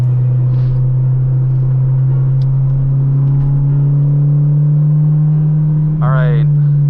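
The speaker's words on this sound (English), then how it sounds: "you can move over, bud. The VTEC's coming through." A Honda Integra engine drones steadily and loudly throughout, with a brief rising rev near the end suggesting VTEC engagement; a faint voice appears near the start.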